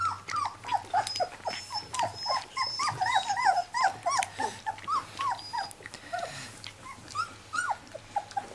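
Several puppies whimper and yip in high, repeated cries, a busy overlapping chorus close by with no talk.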